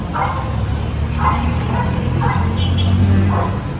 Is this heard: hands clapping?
no